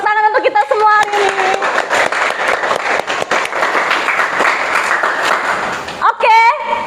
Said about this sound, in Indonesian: tepuk tangan untuk kita semua hari ini.